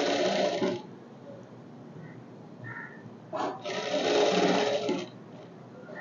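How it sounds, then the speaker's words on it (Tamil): A sewing machine stitches two layers of blouse fabric together in a close, fairly loud whirring burst, then pauses and runs again in a longer burst. "அப்படியே ரெண்டையும் ஒன்றா வச்சு தைச்சிட்டே வரணும்"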